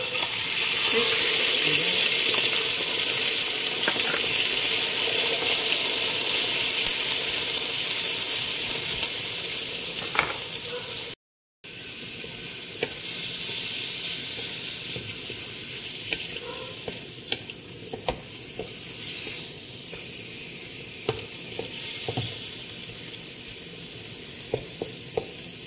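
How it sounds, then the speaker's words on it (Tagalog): Pork strips fry in a hot pan, a loud continuous sizzle that eases slightly after a brief break, with scattered clinks and stirring noises and faint talk in the background. "Then, adding our pork strips."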